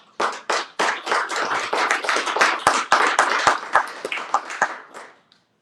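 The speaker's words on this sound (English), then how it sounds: "let's give them a round of applause" A small group clapping at a county commission meeting, sharp individual hand claps clearly separable, close and loud, tapering off to silence near the end.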